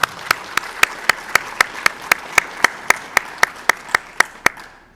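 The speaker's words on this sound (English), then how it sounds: "So I want to give you another round of applause" Clapping at a National Junior Honor Society induction ceremony comes as a steady train of sharp, evenly spaced claps, about four per second, close and clear with no talking over them.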